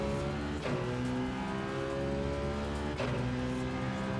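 A race car in Gran Turismo 7 revs hard, its engine note climbing steadily, then drops sharply at two quick upshifts before climbing again. The sound is loud, continuous and near, and no one speaks.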